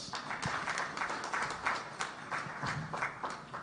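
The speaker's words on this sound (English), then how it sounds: "I thought we would have a thunderous round of applause for that." Scattered applause from a modest audience at a refugee response plan launch in Uganda, uneven clapping rising and falling in small bursts, fairly faint and thin rather than thunderous.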